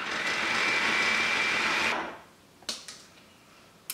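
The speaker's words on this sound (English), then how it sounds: "this may take a couple times of scraping down the food processor, but what we want is for it to be running really smoothly" Food processor whirring loudly and steadily as it blends frozen bananas into a smooth base, then cutting off abruptly, followed by a couple of sharp clicks from the lid or bowl.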